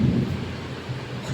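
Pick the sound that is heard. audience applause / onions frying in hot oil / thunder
thunder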